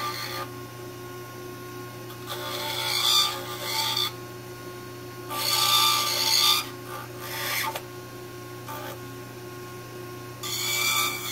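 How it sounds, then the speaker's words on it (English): Inverted cone dental burr trimming an acrylic denture, a steady faint motor whine with several louder gritty bursts of grinding as the burr cuts into the acrylic. "This is the inverted cone, which I use for cutting out muscle attachments."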